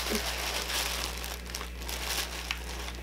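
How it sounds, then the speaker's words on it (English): Tissue paper crinkles and rustles steadily throughout as a mystery box is unpacked, a close, continuous papery crackle with no talking. "So far we have a box full of tissue paper"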